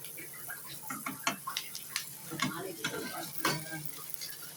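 Parotta pieces stirred and frying with masala in a pan, a busy sizzle broken by frequent spatula scrapes and clicks, close and moderately quiet with no talk.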